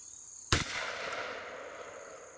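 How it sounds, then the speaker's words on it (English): A single loud shot from a Beretta 1301 Tactical shotgun with a cylinder choke firing buckshot outdoors at 16 yards, a sharp crack followed by a long fading rumble and echo. "This is the cylinder choke, and he's shooting the buckshot."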